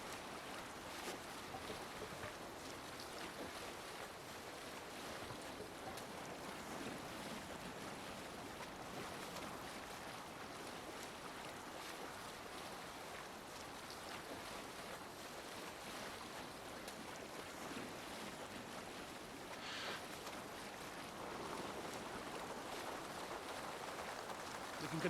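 Viking longboat sailing on open sea in Assassin's Creed Valhalla, with steady wash of waves and wind rushing around the hull, continuous and even throughout with no clear talk over it.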